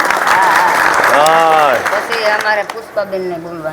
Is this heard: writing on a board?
no